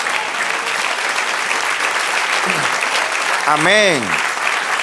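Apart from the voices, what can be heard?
church congregation applause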